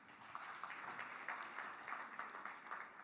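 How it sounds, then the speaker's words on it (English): Faint, distant crowd applause at a public sector innovation awards ceremony, steady continuous clapping from an audience with no voices over it. "Let's give a round of applause once again."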